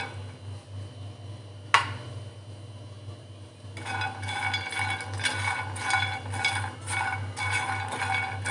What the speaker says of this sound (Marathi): हे मखाने भाजून घेणार आहोत.